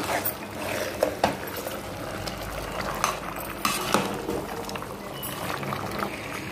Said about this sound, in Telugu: కిందకే మీదకి కలిపేసుకోవాలి ఇలాగా